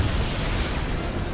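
A special beam cannon blasts in an Iron Man video game, a loud, sustained roaring burst of energy that fills the short moment with dense, explosive rumble and no talk.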